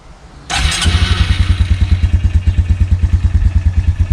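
An ATV engine fires up after a brief pause without choke and settles into a fast, even chugging idle, loud and close.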